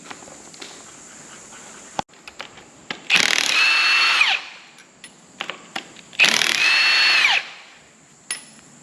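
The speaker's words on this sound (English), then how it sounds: "And the big rattle gun, so let's see how long it lasts until we explode it." Impact wrench (rattle gun) driving a 3/8 drive adapter to remove engine head bolts on an 80 Series build, firing in two loud bursts of roughly a second each, separated by quieter clinks and handling noise.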